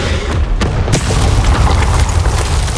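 A spell blast cast in the Hogwarts Legacy video game booms out loud and close, followed by a dense, sustained rumble of in-game combat noise.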